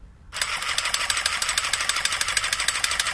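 An HPI Savage X 4.6 nitro RC truck engine is cranked while being primed: a sudden, close, rapid buzzing rattle with a fast, even pulsing rhythm that starts abruptly and continues loudly.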